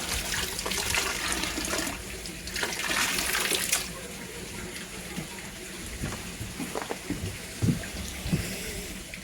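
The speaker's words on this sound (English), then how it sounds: "what I'll do now is give these a good wringing out and then put them back" Water splashes and drips steadily as pond filter wool media is wrung out by hand beside a koi pond barrel filter, with trickling and sloshing throughout and a few louder splashes near the end.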